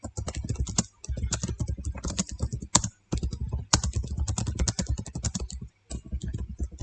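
Typing on a computer keyboard into a text box in an Excel spreadsheet, a close, rapid, steady patter of keystrokes in long runs broken by brief pauses, with no talk.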